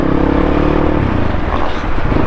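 A lightly modified motorcycle, an Xz250rrr or an NS200, is ridden along a road. Its engine drone and wind rush are loud and steady throughout, close to the rider.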